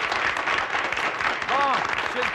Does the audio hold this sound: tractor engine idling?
no